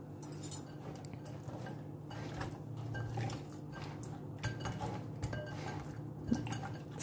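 Fish pieces being mixed by hand with vinegar and salt in a bowl, soft wet squishing with light clinks of the bowl, faint and continuous over a low kitchen hum.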